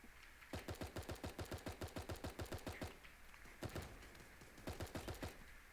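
Rapid bursts of SMG submachine gun fire from the Super Animal Royale video game, several quick rattling volleys of evenly spaced shots with short pauses between them, crisp and fairly close.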